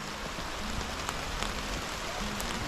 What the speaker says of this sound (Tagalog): Maulan na pag-harvest sa aming mga ampalaya.